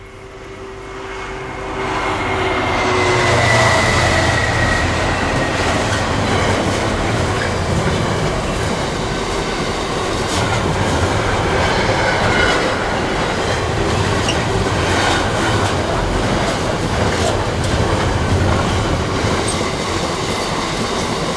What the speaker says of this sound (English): There was this freight train.